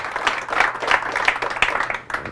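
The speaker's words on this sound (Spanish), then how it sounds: "Fuertes aplausos a nuestra Madre Santa, la Virgen María." A church congregation claps loudly in a quick, steady rhythm of many hands, a short close burst of applause with no talk over it.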